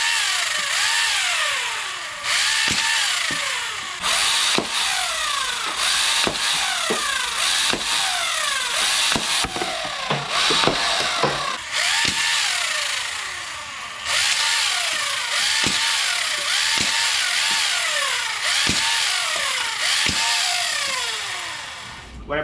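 An overvolted, modded Honey Badger flywheel foam dart blaster fires repeatedly. Whirring flywheels rev up and down between rapid bursts of sharp shots, loud and close, with no talk.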